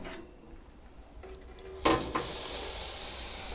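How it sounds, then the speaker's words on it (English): Pork loin sizzles on a BBQ grill over ProQ Coco briquette coals under a Thueros T1 hood. The sizzle jumps up suddenly as the meat goes on, then holds as a steady, close hiss with no talking. "Lovely sizzle."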